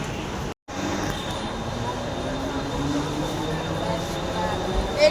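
Harbour Line local train near Airoli, a steady rumbling roar of rails and carriages that runs almost without a break, with a brief dropout near the start and faint voices mixed in.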